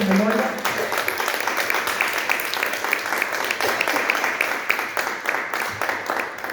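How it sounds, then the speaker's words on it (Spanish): Audience applause in memory of Pocha, a sustained wash of clapping that begins right away and runs steadily throughout at moderate loudness, with no talking over it. "un gran aplauso para ella, por su memoria."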